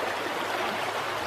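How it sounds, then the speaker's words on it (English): Manada Creek in Pennsylvania flows past rocks with a steady, close rushing wash of water that holds constant throughout with no voices. "so here's the creek, Manada Creek."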